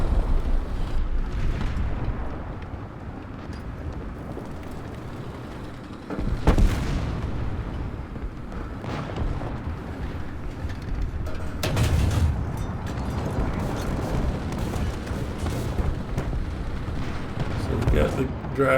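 In the War Thunder tank game, a German Panzer III Ausf. J1 medium tank's engine rumbles continuously, with a couple of heavy cannon booms and explosion bursts cutting through the low, steady din.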